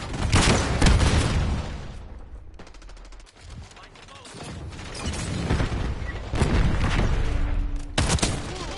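Call of Duty: Black Ops 6 multiplayer action with a heavy grenade blast among rapid automatic gunfire and booming impacts, loud and chaotic throughout, and voices faintly under the din.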